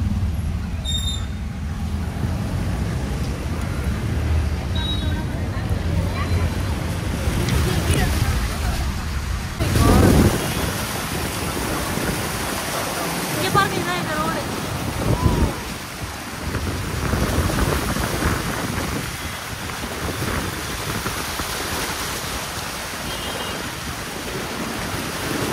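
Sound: car driving through floodwater after a cyclone

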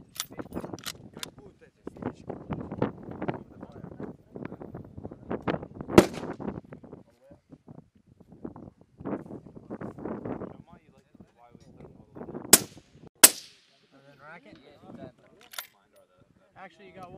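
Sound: sniper rifle shots, M2010 and M40A6

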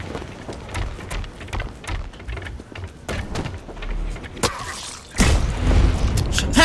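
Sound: sniper rifle shots in video game Blacklight Retribution

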